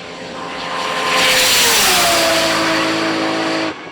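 A car blasts past at roughly 192 mph on a top speed run at a 2004 straight-line speed event, its roar building loud and near, then the pitch dropping as it passes and fades away.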